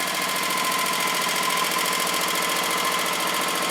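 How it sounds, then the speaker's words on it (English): A Sears Suburban lawn tractor under teardown grinds its gears, making a dense, continuous mechanical rattle and clatter over the running engine, loud and close throughout. "So now it kind of grinds gears."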